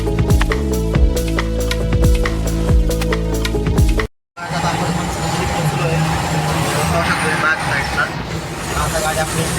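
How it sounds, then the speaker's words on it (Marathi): Maharashtra state transport (ST) bus riding toward Nashik, heard from a rear seat: a tonal, music-like passage and a brief cut, then a steady engine drone and road rumble that stays loud and continuous. "आता आपण एस टीमध्ये बसलोय"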